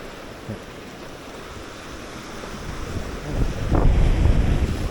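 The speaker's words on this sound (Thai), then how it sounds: "ลมก็มาจาก ด้านหลังเราเหมือนเดิมนะครับ" Wind gusts across a boat at sea during a squid-fishing trip, buffeting the microphone with a low, steady rumble that swells louder toward the end, with the wash of waves underneath.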